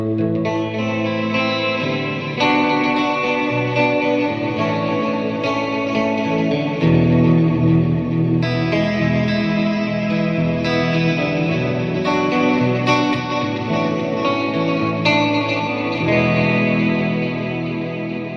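Electric guitar played through a Fender Mustang GTX100 amp preset, sustained chords washed in chorus, echo and light distortion, ringing continuously and alone with no voices.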